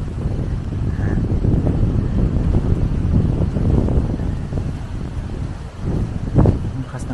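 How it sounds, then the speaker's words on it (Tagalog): Strong wind roars continuously against the microphone in Catanduanes, Philippines, a dense rumbling rush that never lets up, with a few brief louder gusts. "Ang lakas ng hangin dito."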